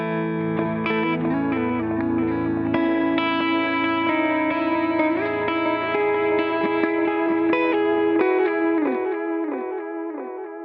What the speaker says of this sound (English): Crank the spread, and now we have an ambient soundscape.